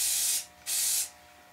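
Two strong bursts of spray paint hiss from an aerosol can sweeping across a homemade evergreen tree, each about a third of a second long, with a brief gap between them.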